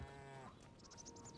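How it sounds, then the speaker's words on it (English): Cattle lowing on a farm in the Hytale video game, a few short moo-like calls over steady game ambience with no talking. "We got some cows."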